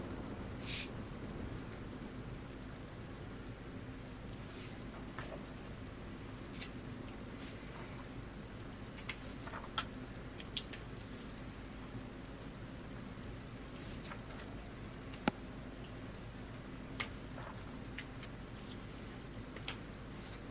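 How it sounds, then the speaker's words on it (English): Steady rain falls in a soft, even hiss, with scattered louder drips and taps standing out now and then over the constant wash. "It's raining here, so I'm getting fake rain in my ears and real rain"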